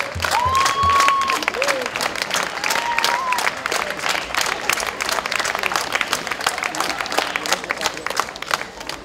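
Sustained audience applause at an international world folklore festival, a dense crowd clapping loudly and steadily throughout, with a few faint whistles rising above it.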